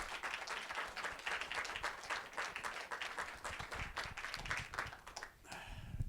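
Audience applause at a Cinémathèque québécoise screening, welcoming a guest speaker: moderately sparse, distinct hand claps from a modest crowd, fairly quiet and uneven, thinning out near the end.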